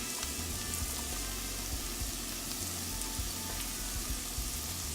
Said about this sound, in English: So this has been cooking about 5 minutes.